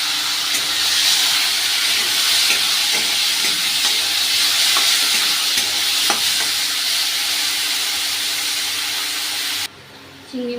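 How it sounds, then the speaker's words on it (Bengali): Prawns fry in a pan with a loud, continuous sizzle and hiss, spattering crackles and occasional stirring knocks, ending with a brief pause before the sizzle returns. "চিংড়ি মাছগুলো ভেজে নেব।"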